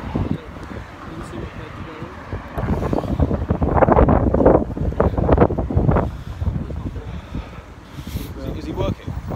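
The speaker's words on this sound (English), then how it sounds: "Jesus Christ, this wind." Strong wind buffets a microphone at a football stadium, loud, uneven low rumbling gusts that swell and fade under someone talking.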